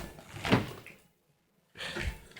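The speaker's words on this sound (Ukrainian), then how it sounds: "дверки відкриється, не відкриється." Frozen, iced-over door of a homemade garage wood stove being forced open in the cold, giving two short metallic scraping clunks separated by a moment of silence, close and fairly loud.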